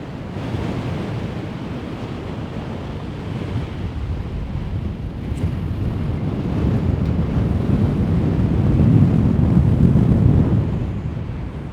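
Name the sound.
strong wind on mountain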